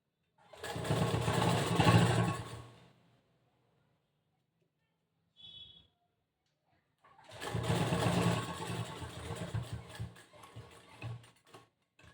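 Sewing machine stitching the front part of a cross-cut blouse, running in two bursts of steady mechanical whirring, loud and close, with a brief faint click between them and no talking.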